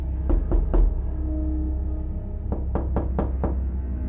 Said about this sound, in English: the sound of the door shattered my sleep once more.